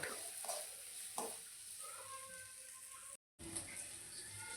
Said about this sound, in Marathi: मसूर डाळ थोडंसं तेलामध्ये परतून घेतलं